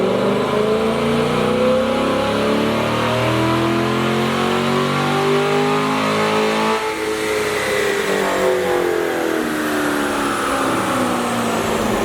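A C8 Corvette with a Corsa exhaust runs on a dyno. Its loud, steady engine roar climbs in pitch for about seven seconds, then eases off and drops back while the exhaust keeps droning without pause.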